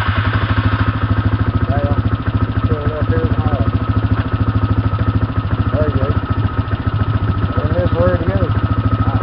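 Motorcycle engine running steadily and loud at a close, even idle-like chug as a learner rider sets off, with a voice talking briefly over it.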